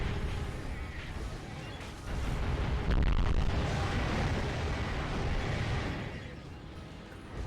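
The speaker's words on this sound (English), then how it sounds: "the explosion sound from that is so..." A broad, rumbling explosion in the video game Drakengard roars through the whole stretch, swelling louder midway and then tapering off.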